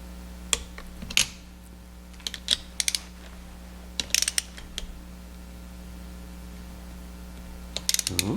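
A torque wrench tightening bolts on a 115 outboard motor, giving scattered sharp ratcheting clicks in short bursts, close and fairly quiet over a steady low hum.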